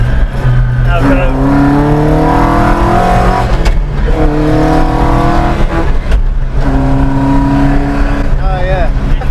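A Morris Minor's engine revs repeatedly as it accelerates through the gears, its pitch climbing and then dropping. It is loud and close, as heard from inside the car.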